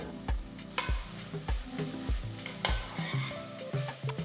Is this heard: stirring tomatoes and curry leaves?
yes